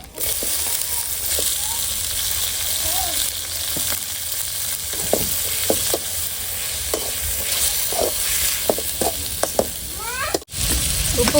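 Tomatoes dropped into a hot pan set off a steady, close sizzle of frying that runs throughout, with stirring and a few faint high calls in the background.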